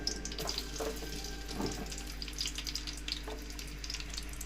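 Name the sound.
onions frying in oil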